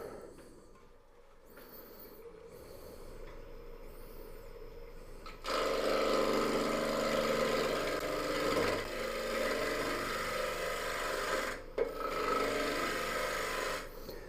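Wood lathe spinning a three-sided bowl blank while a gouge cuts out toward the tips, a steady loud rasping, scraping drone that grows harsher and louder partway through, with brief dips between cuts and no talk.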